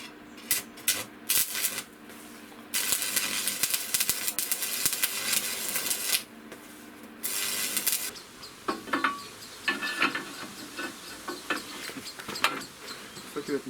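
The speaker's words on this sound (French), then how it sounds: "On a juste à souder, là." A drift trike frame is being welded, giving a harsh, crackling buzz that runs in several long bursts with short pauses between them. Later come clinks and scattered workshop noises.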